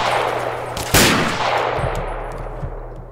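A weapon fires once in the video game Fallout 3, a single loud, sharp blast followed by a long decaying rumble and echo, with a few faint thuds afterward.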